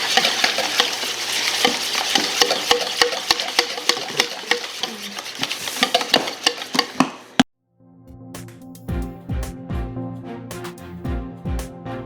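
Breakfast pudding mixture stirred in a bowl for a freezer meal, with dense scraping and clinking strokes close up, a brief pause, then softer, steadier mixing with light knocks.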